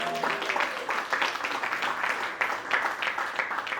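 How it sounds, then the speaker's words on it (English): Applause for someone speaker at a Gryphon Digital Mining talk, a steady wash of clapping with a few voices mixed in, moderately close and filling the whole stretch. "Give her a round of applause"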